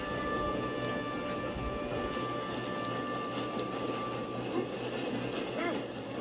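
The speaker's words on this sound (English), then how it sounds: "We have to stop this train." Train running in Red Dead Redemption 2, a steady loud rumbling and mechanical clatter with sustained tonal hum running throughout, dense and continuous.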